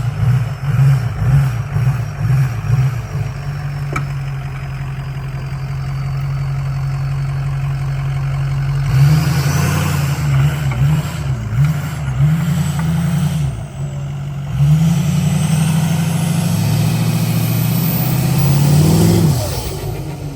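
A budget mud truck's engine idles with a loping, uneven rumble, then revs hard in repeated surges as it goes around a track, loud and close with no talk.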